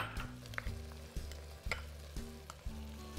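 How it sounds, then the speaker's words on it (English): Beef, bacon and onions fry inside a Pressure King Pro cooker, a soft sizzle running under a regular electrical hum, with several sharp scraping knocks as the mixture is stirred. "Give it a good stir and let that fry for a further 2 minutes."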